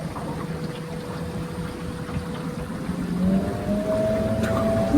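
A small electric skiff runs at quarter throttle, with a steady motor whine over continuous water rush and hull noise. The pitch rises slightly partway through as the boat picks up a bit.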